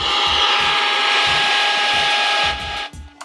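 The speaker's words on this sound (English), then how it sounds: "it's incredibly painful to listen to static like that" Loud, steady radio static from a Roberts Revival 993 radio hisses with a pulsing low buzz underneath, then drops and breaks up near the end.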